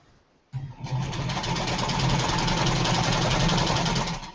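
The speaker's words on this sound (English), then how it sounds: "I'm going to sew these 2 together." A sewing machine stitches two quilt pieces together with a quarter-inch seam: it starts after a brief quiet moment, then runs in a steady, fast, close mechanical whir until it stops at the very end.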